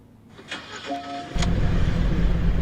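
A car engine starts up: a brief cranking whir, then it catches and settles into a loud, steady rumbling idle close by.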